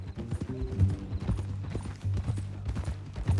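Steady clip-clop of horse hooves at a walking pace in the game Red Dead Redemption 2, close and moderately loud, with faint creaks of tack and no talking.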